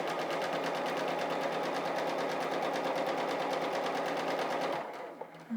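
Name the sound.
sewing machine stitching quilt squares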